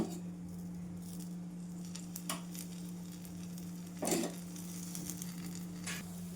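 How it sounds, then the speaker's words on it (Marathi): A paratha roasts on a hot pan with a soft, low sizzle under a steady stove hum, broken by a few scrapes and one louder clatter of a spatula. "हा पण भाजून घेते छान"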